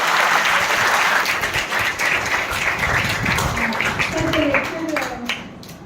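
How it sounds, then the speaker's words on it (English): Steady, loud applause from a lecture audience fills the room for several seconds, dense clapping that tapers slightly near the end, with some voices mixed in underneath. "I would like you all to please give a round of applause to sir."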